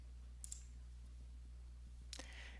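Two sharp, faint computer mouse clicks, one near the start and one near the end, pressed while clicking a continue button on an online ITIN W-7 application form, set over a steady low electrical hum with no talking.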